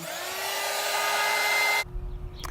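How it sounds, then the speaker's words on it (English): A small heat gun blows hot air to dry paint on wine glasses, a steady loud whooshing whir that cuts off abruptly near the end, leaving quiet handling noise. "I have this heat tool here that I'm going to put a little heat on it to get it to dry quicker"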